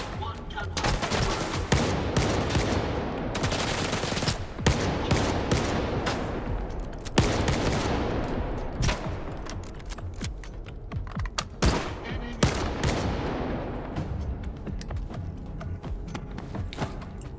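Dense, sustained gunfire in the video game S.T.A.L.K.E.R. 2, with rapid automatic bursts and overlapping shots from several weapons. It runs loud and nearly continuous, with sharper cracks standing out now and then.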